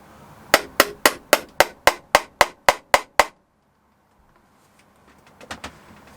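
A pin hammer taps about eleven times in a quick, even rhythm while assembling the landing gear of a Nexa DH 82 Tiger Moth model airplane. After a pause, a few faint taps follow.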